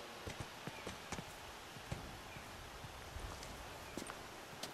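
Horse hooves walking in The Last of Us, a quiet, uneven series of hollow clip-clop steps close by, with faint rustling in the background.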